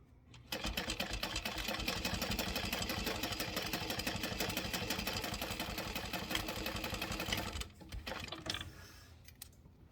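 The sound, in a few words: sewing machine sewing on a slip pocket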